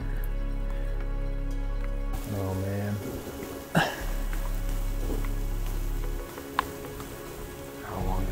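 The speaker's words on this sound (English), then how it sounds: "This kind of rain will get you wet." Heavy rain pours down outdoors near a rocky outcrop on a mule deer hunt, a steady hiss filling the whole clip while someone talks briefly over it.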